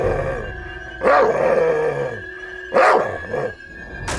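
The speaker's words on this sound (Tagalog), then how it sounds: "may isang chihuahua na nagngangalang Pablo" A chihuahua named Pablo, living in a small remote village in the Philippines, lets out three sharp, separate barks spaced a second or two apart over a steady humming background.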